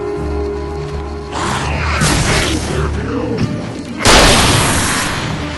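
Shotgun blasts against enemies in Alan Wake, loud gunshot bursts with a heavy boom around the middle and a sharp strong shot near the end, over game ambience and brief voice.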